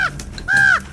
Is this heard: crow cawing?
yes